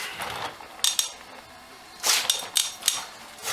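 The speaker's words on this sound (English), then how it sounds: "a couple of smacks there to loosen it up" A tool smacks a front brake part on a 2006 Ford F350 dually pickup to loosen it, a few sharp metallic knocks spaced apart in a short burst, close and distinct.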